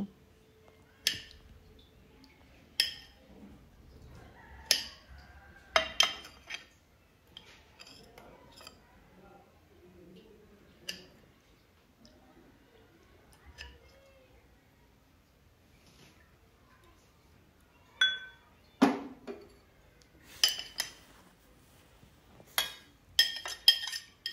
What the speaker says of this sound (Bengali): এবার টমেটোকে একটু টুকরো টুকরো করে কেটে নেব